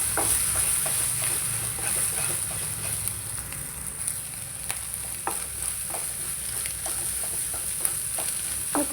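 Eggs frying in a pan for egg poha, a steady close sizzle with light stirring and scraping throughout.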